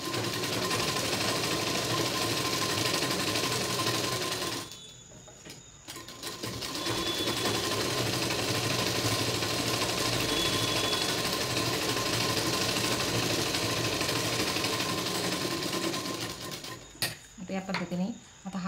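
A sewing machine stitches the neckline of a boat-neck blouse in a fast, steady whirring drone that stops briefly twice, with someone talking softly over it.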